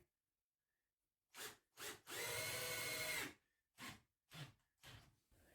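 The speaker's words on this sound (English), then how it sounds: "I'm going to drive in some screws to the front of the shelf to hold it in" Power driver running screws into the front of a wooden shelf: short bursts of whirring, one long sustained drive in the middle, then several brief pulses, close and loud against a quiet background.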